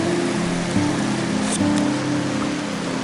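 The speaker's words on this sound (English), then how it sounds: "Hear the sounds of a river flowing." A small creek flows during a nature walk, a steady close wash of moving water with a low hum beneath and a couple of brief knocks.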